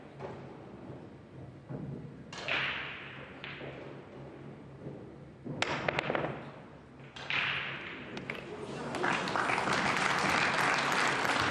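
Audience applause rises and swells after a shot in a 2024 US Open Pool Championship last-16 match, coming in several bursts of clapping that build to a sustained, fairly loud round of applause in an arena.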